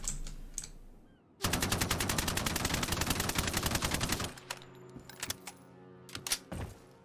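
A rapid burst of automatic gunfire from a weapon in the online shooter Ironsight, about three seconds of loud, evenly spaced shots, then scattered quieter clicks and thuds with no talk.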